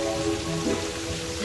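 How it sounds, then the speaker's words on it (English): Steady hiss of rain falling in the video game Terraria, a short continuous patter with no talking over it. "Wait, it's raining."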